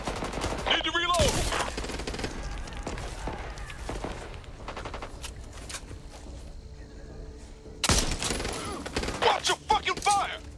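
Gunfire in Back 4 Blood, loud rapid automatic bursts with a long spray early and another heavy burst near the end, amid chaotic game noise and a shouting voice.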